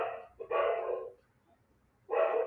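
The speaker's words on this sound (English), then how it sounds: "The dog is barking continuously." A dog barks faintly in the background during an online lecture: one drawn-out bark, then a pause, then another short bark starting.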